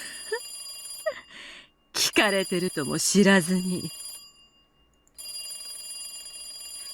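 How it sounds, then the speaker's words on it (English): A telephone rings in the horror visual novel game Higurashi. The steady, shrill electronic ringing runs in stretches, pauses while someone speaks Japanese in the middle, then resumes alone. "And there was nothing but a ringtone."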